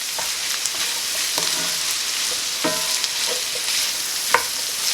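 Apple pieces cooking in a pan with garlic for a Thanksgiving apple cranberry sausage stuffing, giving a steady close sizzle broken by a few scrapes and clinks of stirring, with no voices.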